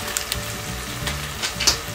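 Macaroni hits a hot pan and sizzles steadily for two seconds, with a few sharper crackles and pops, no voices over it.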